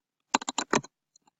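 Typing on a computer keyboard, a quick burst of about six close key clicks followed by two faint taps, alone without talk.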